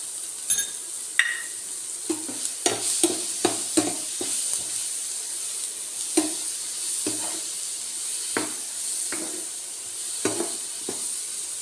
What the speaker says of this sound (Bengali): হালকা ভাজা হয়ে আসছে। এখানে আমি একটু লবণ দিয়ে দিচ্ছি আর একটু চাট মশলা দিয়ে দিচ্ছি।